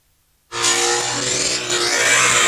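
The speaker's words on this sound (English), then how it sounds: "Who wants to see some more burnouts at Waikaraka Park?" A 900-horsepower E85 one-ton ute does a burnout at Waikaraka Park speedway: the engine roars in suddenly after a brief hush and holds a loud, sustained, close-up rev with rough tyre noise through to the end.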